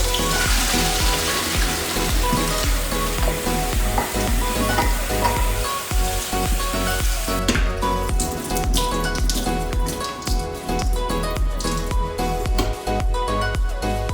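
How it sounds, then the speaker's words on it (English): Cold water pours over cooked macaroni in a pan, making a continuous splashing, hissing patter like rain on a surface, close and steady throughout, with no voices. "We put in the cold water."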